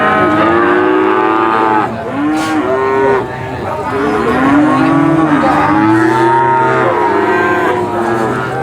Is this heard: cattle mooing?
yes